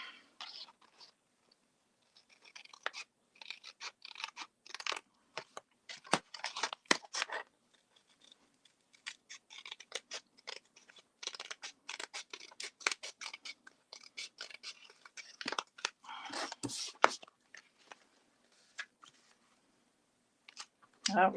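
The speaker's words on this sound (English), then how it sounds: "now we're gonna hold back the ribbon and then cut around it" Scissors snip through paper, cutting around a ribbon while a colorful mini journal is being crafted; quick, close, irregular bursts of snipping and rustling follow one another with short pauses in between.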